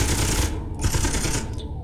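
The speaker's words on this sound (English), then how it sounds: "So we can fire like so. And we've got chain guns." Mounted chain guns in Space Engineers blasting out rapid bursts of fire, two dense volleys separated by a brief pause, loud and close.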